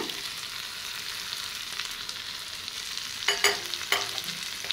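Chicken gravy with tomato frying in a pan, a steady close sizzle broken by a couple of scraping stirs near the end.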